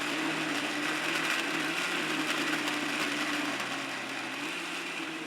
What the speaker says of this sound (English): Now blend everything together until you have a well-mixed liquid paste.